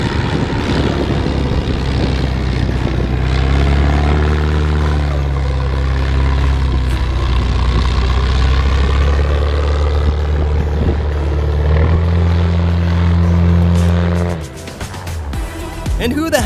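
A propeller-driven airplane drones loudly and steadily for the whole stretch, its engine tone holding near and shifting pitch partway through before easing off near the end.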